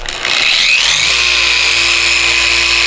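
A Meguiar's long-throw dual action polisher buffs car paint, giving a loud steady high-pitched motor whine and hum that rises briefly at the start and then holds constant throughout.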